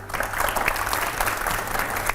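Steady applause from a studio audience at a devotional children's show, a dense wash of clapping held for about two seconds with no voices.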